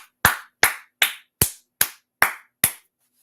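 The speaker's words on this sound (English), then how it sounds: "Let's clap it up" A class claps together in seven sharp, evenly spaced unison claps, each crisp and close with a quick decay, followed by silence.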